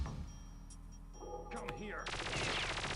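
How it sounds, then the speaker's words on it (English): Enemy gunfire in the N64 shooter Perfect Dark during the G5 Reconnaissance level, a burst of close shots that builds into a loud, dense fusillade over game music and noise. "they can shoot at you through this gap"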